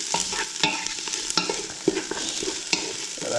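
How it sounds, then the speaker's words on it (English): Onions frying in a pan are stirred with a utensil, producing a steady close sizzle broken by scraping strokes and soft knocks against the pan at an unhurried rhythm. "we're just checking back on our onions, giving them a good stir"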